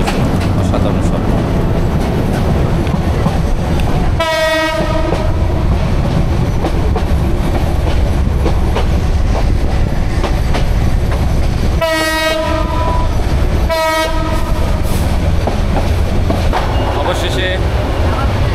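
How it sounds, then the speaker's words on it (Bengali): A non-AC Cox's Bazar Express intercity train running at night, heard from on board as a loud, constant rumble and clatter, with three long horn blasts sounding over it at intervals. "ট্রেনের শব্দ অসাধারণ শব্দ।"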